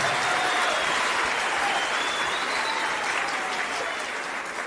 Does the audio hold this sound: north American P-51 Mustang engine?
no